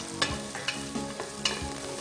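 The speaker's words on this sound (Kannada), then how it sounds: "ತುಪ್ಪ ಕಾದ್ಮೇಲೆ ಅದಕ್ಕೆ ಹಸಿ ಮೆಣಸಿನಕಾಯಿ ಹಾಕೋಣ ಓಕೆ ಈರುಳ್ಳಿ" Green chilies and onion fry in hot ghee, a close sizzle broken by several sharp scrapes of a spoon stirring the pan over about two seconds.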